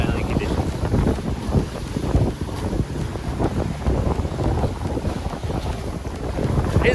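Sailing yacht, an Elan Impress bluewater cruiser, underway on a 60-degree wind at about 6.5 to 7 knots, with steady loud wind buffeting the microphone and water rushing along the hull throughout.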